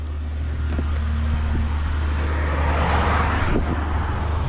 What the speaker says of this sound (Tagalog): may mga dumaraang sasakyan